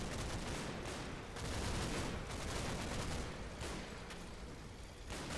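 Battlefield gunfire in Combat Mission: Battle for Normandy, a steady barrage of overlapping rifle and machine-gun shots with dull booms, constant and fairly distant-sounding throughout.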